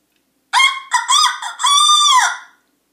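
A person imitates a chicken with their voice, giving a run of clucking, honking squawks in three quick bursts and a longer drawn-out call, loud and close with silence around it.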